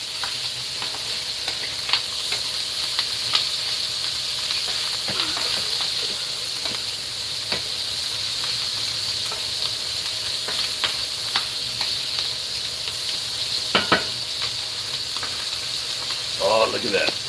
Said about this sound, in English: And the sausage, I like to get it a little bit brown, so that way it's nice and firm.